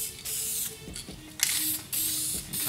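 A golf cart seat gets a light, uniform coat of spray paint in short hissing bursts, five or six sprays of about half a second each with brief pauses between, close and fairly loud.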